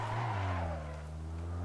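Car tires squeal and skid through a J-turn in Assetto Corsa, a loud, close screech that slides downward in pitch over a steady engine drone and fades out within a couple of seconds.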